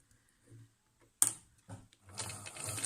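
A sewing machine back-stitches elastic onto the corner of a shaped fabric face mask, heard first as a few faint, brief stitching bursts and then a steadier, louder run of stitching near the end.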